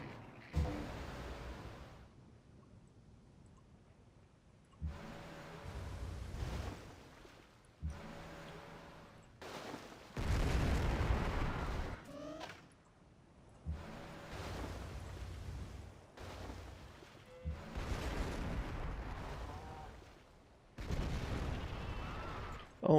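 Artillery barrages from the Civilization V strategy game during a war against France, heavy booming blasts and rumbling bursts repeating in clusters across the span, with no voices over them.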